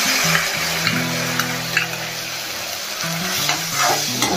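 A prepared chilli chana mixture goes into vegetables already frying in a pan, bringing loud, close sizzling and repeated stirring scrapes over a low, steady background hum.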